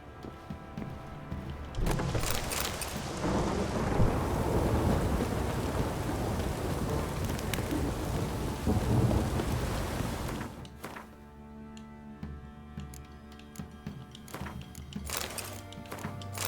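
A thunderstorm with heavy rain in The Witcher 3 video game: a dense, loud roar of downpour with rumbling thunder builds for several seconds, then eases into quieter rainfall with scattered drops.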